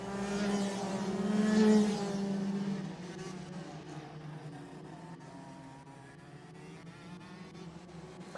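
Rotax Max karts race through a turn complex at a Latvian championship round, their engines a buzzing, tonal drone that swells loudest early on, then recedes into a steadier, more distant hum.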